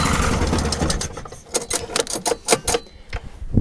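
A small pull-cord engine, choked, sputters and fires in a short run of uneven pops and chugs, loud and close, after a moment of rougher noise.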